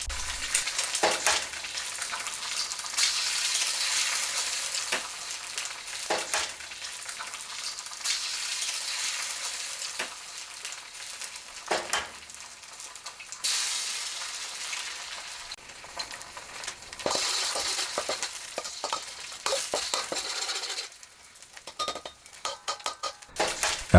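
Eggs fry in a hot, well-oiled wok over high heat, a sustained sizzle punctuated by sharp metallic clinks and scrapes of utensils against the pan, with bursts swelling and fading throughout.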